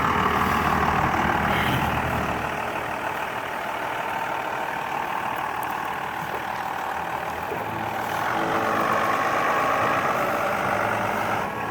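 A long heavy vehicle idles with a steady low engine rumble, then revs gently as it turns around and pulls away, the drone swelling slightly near the end.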